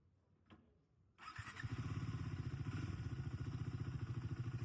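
A Triumph Speed 400 motorcycle (2025 model) engine starts after a quiet moment and settles into a steady, close, rhythmic idle.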